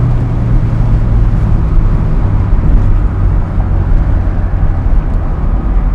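A 1980s-era BMW E21 320is with a turbo accelerates on the road, a loud, steady engine drone and road rumble heard from inside the cabin without a break.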